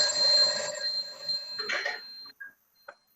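A telephone rings during a group call, bright electronic ringing tones repeating then stopping, followed by a few short faint beeps, no voices.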